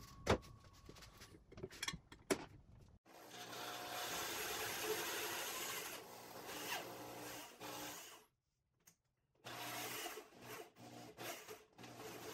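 A drill bores a pin hole in a mini pottery wheel bat, giving a close, grinding whir in long runs after a few scattered knocks, with short pauses between passes.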